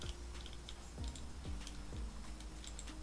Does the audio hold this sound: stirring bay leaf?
no